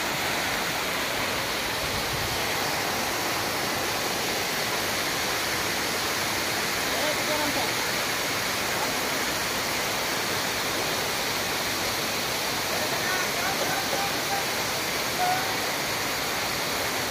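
Baabijhari waterfall at Kerameri roars as a steady, dense rush of falling water, close and loud, holding even for the whole stretch with no breaks.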